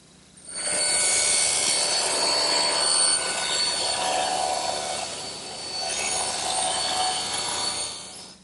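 A saw cuts across the corner of a wooden board to square it off in a woodworking shop. It gives a continuous rasping noise for about eight seconds, easing briefly midway and fading at the end, with no talk.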